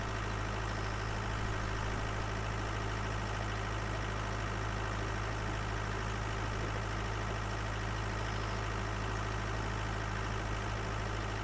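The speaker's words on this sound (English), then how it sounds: "By the time I get this field cultivated with this tractor, I'm going to have the engine blown" Tractor engine cultivating a field in a farming video game, a steady rumbling drone with a fast even pulsing running unchanged throughout, loud and close, with no talk.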